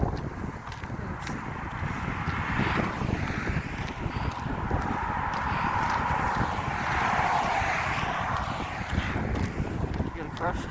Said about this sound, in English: There goes the wind again.